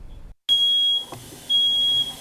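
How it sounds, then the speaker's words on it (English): A smoke alarm sounds during a fire safety demonstration, giving two sustained, piercing high-pitched beeps separated by a short gap. "So once that smoke alarm goes off, you only have about 2 minutes to get out."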